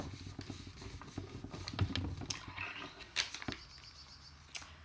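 Paper images are cut out with scissors in quiet, scattered snips and rustles, with small taps and handling noises between cuts; nobody speaks.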